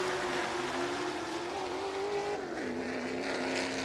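Race cars at Madison International Speedway pull away at the start of the Capital 100, engines roaring loudly and steadily with a rising, shifting pitch and a slight dip partway through.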